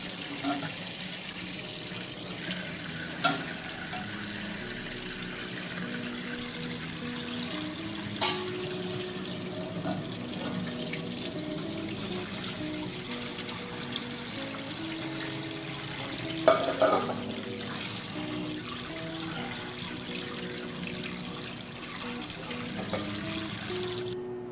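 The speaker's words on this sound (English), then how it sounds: "Then rinse the sago in running water." Tap water runs steadily in a sink rinsing sago, with occasional clinks and stirring sounds over a quiet, continuous flow.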